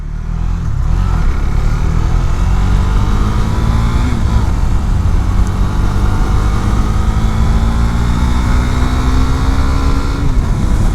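A 2019 Husqvarna Svartpilen 401 motorcycle engine pulls in first gear, loud and continuous, its pitch climbing steadily through revs with a gear-like drop around the middle and wind rush throughout.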